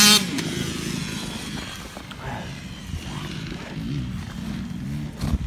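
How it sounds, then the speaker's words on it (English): A motorbike passes on a walk in the Rhondda valley, south Wales, with a continuous engine roar holding steady at mid distance over outdoor ambience. "Oh, motorbike."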